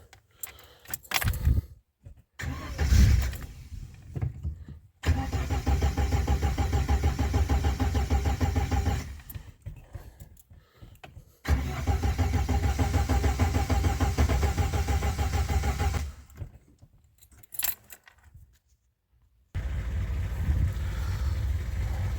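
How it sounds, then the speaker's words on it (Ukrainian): VAZ 2106 car with a swapped-in engine, cranked several times with keys jangling between attempts until it catches and settles into a steady rough idle, heard close and loud in repeated long stretches. "Авто запускається специфічно, тому що сказали, підсос не, не треба виймати, інакше взагалі не заведеться."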